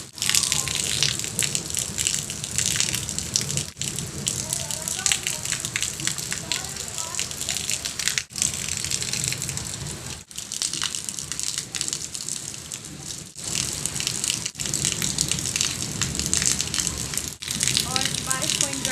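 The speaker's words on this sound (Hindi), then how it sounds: "अभी भी बादलों की बहुत आवाज़ आ रही है लेकिन बारिश पहले से थोड़ी सी स्लो हुई" Heavy monsoon rain pours steadily during a storm around a village home, with rushing floodwater gushing loudly and continuously close by, briefly dipping and returning.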